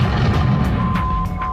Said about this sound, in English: we got artillery coming in friendly